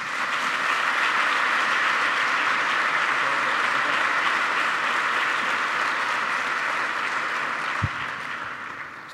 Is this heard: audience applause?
yes